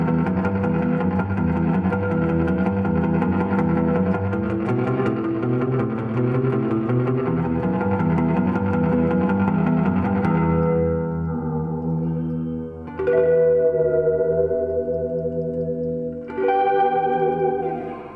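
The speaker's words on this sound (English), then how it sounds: "show you how you can get a really cool, like a natural reverb slapback sound with some simple picking and strumming" Electric guitar played through a Solid Gold FX Surfrider spring reverb pedal, depth about 9, level 6, tone about 4, picked and strummed for a natural slapback reverb. Sustained chords ring loud and alone, then thin into sparser picked notes with trailing echo.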